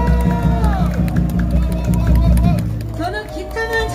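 A crowd cheers and applauds for a guitarist at a street rally outside Gangnam Station. Whoops and clapping rise from many people close by, mixed with loud voices and amplified talk.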